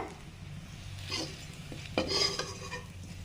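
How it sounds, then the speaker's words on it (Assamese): Baby corn coated in batter fries in oil in a wok, a soft sizzle with intermittent scraping and clinking of a spatula against the metal, fairly quiet and without talk. "ভাজি ল'ম ভালদৰে।"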